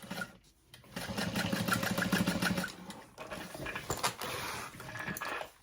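A sewing machine stitches a bag seam, running in short rapid bursts and then pausing. It reverses for a backstitch, and the mechanical whirring stays fairly close and moderate in level.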